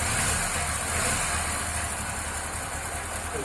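A repaired old motorbike engine runs steadily at idle, a continuous loud, rough mechanical drone with no talking.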